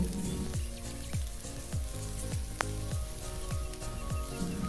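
Bay leaves, dried red chillies, cardamom, cloves, mace and cumin fry in hot oil for tempering a vegetarian cauliflower curry, giving a steady close sizzle broken by regular small pops and crackles.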